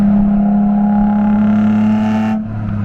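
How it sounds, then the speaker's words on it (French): A Nissan 350Z's engine drones loud and steady from inside the moving car, holding a strong rev for a couple of seconds before the pitch drops off sharply as the throttle lifts. "je suis dans mon auto, là, je suis en train de conduire, puis là, tu entends le son là"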